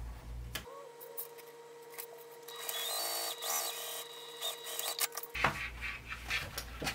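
A sewing machine stitches a 3/8-inch seam on a mini crossbody bag, a steady mechanical whir with fine rapid ticking lasting several seconds, framed by handling clicks and rustles before and after.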